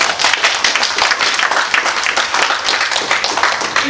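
Dense, steady clapping from a church congregation, loud and continuous with no talk.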